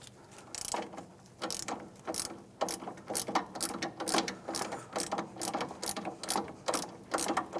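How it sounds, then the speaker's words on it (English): A wrench spinning and locking against a car strut during a strut assembly replacement on a 2007-2013 Acura MDX, giving a steady run of close, rapid ratcheting clicks. "I'm just going to let that wrench spin and lock against the strut."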